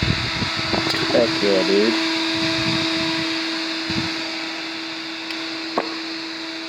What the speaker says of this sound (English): Testing to see if the fan works